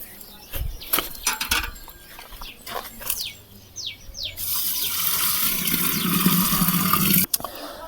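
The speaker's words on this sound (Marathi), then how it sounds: "एक दहा लिटर पाणी यामध्ये टाकून घ्यायचं आहे" Ten litres of water are poured into a clay pot holding cooked rice for a homemade humic acid mix. A few knocks and clatters come first, then a loud, steady rushing pour that runs nearly to the end.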